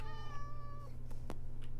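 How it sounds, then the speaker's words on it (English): A cat meows once, a drawn-out tonal call, moderately close over a steady low hum and a few faint clicks. "There's another kitty."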